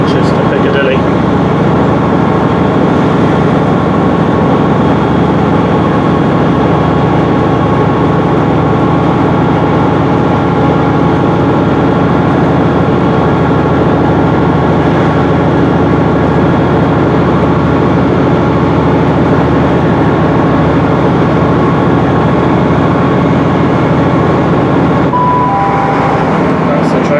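A train runs on the Hope Valley line between Sheffield and Manchester Piccadilly near Edale, heard as a steady, loud, unbroken rumble and hum from inside the carriage for the whole stretch.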